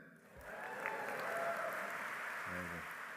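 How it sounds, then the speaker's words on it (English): Audience applause at a university keynote speech, a steady crowd clapping that swells and holds fairly loud throughout, with a brief low thump near the end. "I'm loving those round of applause"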